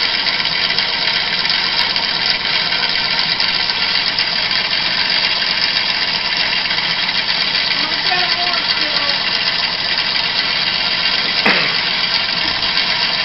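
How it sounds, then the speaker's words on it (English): A homemade Newman motor spins at a steady speed, giving a continuous loud whirring hum with little variation and no pauses, close by, with a brief faint clink near the end. "But it's a working Newman motor. Spinning quite good."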